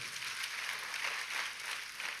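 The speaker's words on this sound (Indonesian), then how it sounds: "ya kita tepuk tangan yang paling meriah buat Tuhan" Church congregation applauding during a sermon, a steady, fairly faint wash of clapping that continues evenly throughout with no talk over it.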